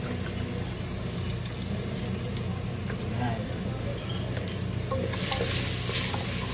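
Garlic sautés in butter for beef caldereta, a steady close sizzle with occasional stirring scrapes and a brief brighter hiss near the end.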